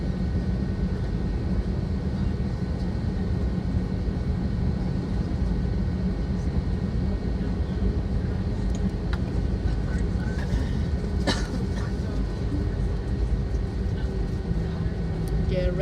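An Alaska Airlines airliner taking off from Las Vegas bound for Seattle, a loud, steady broadband engine roar that holds without a break throughout.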